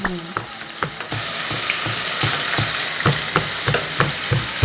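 Meat stir-fries in a hot pan for homemade jjamjjamyeon, a continuous sizzle broken by regular scraping and clacking strokes of the spatula, close up with no talk.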